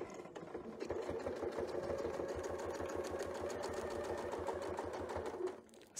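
A sewing machine sews a quilt block in one continuous, fast, even run of stitching that lasts several seconds and then stops.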